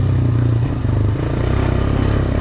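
A Honda Recon 250 ATV engine revs hard while riding, a loud, steady mid-range drone with a rattly, pulsing texture running continuously and close up.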